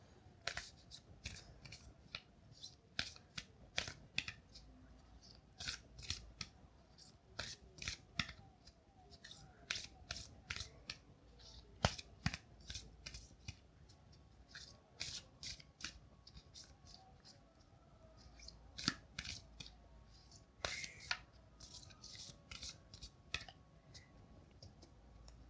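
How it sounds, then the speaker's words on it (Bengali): Major arcana tarot cards being shuffled by hand, a steady run of crisp riffling clicks and card slaps close by, repeating in short bursts throughout with no talking. "ওকে, এটা শুধুমাত্র মেজর আরকানার কার্ড থাকে, এই জন্য আমি এটাতেই সাফলিং করছি আজকে"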